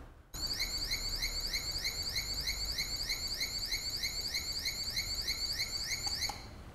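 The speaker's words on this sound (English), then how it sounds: "going to show you how to generate this alarm effect" An electronic alarm tone produced by an IoT board, sweeping up and down in pitch in a fast, repeating cycle. It is steady and continuous for several seconds, then cuts off near the end.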